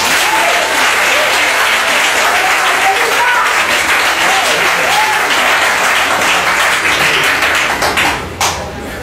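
A church congregation applauds and cheers in a sustained, loud wave of clapping with voices mixed in, steady throughout and tapering briefly near the end.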